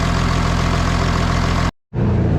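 A blue car's engine runs at a loud, rough, steady idle close by, cuts out abruptly into silence, then catches again and resumes idling.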